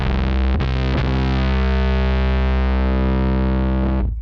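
Bass guitar played through a Tym Guitars Black Mud bass fuzz pedal, giving a thick, droning distorted tone: two quick picked attacks, then one sustained chord ringing loud and steady for about three seconds before cutting off.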